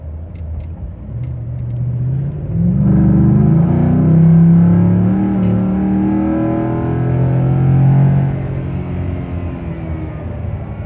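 A Ford F150 5.0 V8 pickup fitted with a Rough Country cold air intake goes wide open up a highway on-ramp, its deep exhaust rumble swelling into a loud, sustained roar as the revs climb, then easing slightly.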